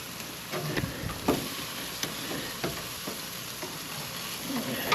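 Pork chops and pork steaks frying on an outdoor grill in cold winter weather, a soft steady sizzle with faint crackles and occasional scraping or stirring clicks, quiet and close, no voices.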